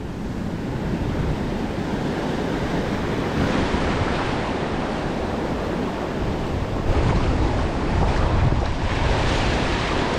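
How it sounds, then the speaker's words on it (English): Large ocean swell breaking as heavy shorebreak on a beach, a continuous loud roar of surf and wash mixed with buffeting wind on the microphone, with no voices. "There's some pretty big sets coming through."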